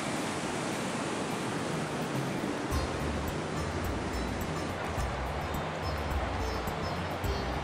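Steady, broadband rush of a jungle stream in Thailand pours on continuously, close and enveloping, with a deeper surge of flowing water joining partway through.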